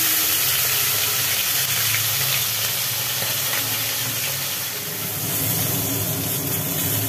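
Tilapia pieces coated in salt and turmeric fry in hot oil in a wok, giving a steady, loud, hissing sizzle that holds evenly throughout with no talking.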